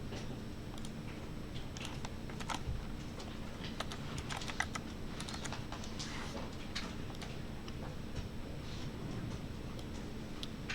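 Fingers type on a computer keyboard while coding in C#, a quiet, steady run of quick clicky keystrokes over a faint background hum, with no speech.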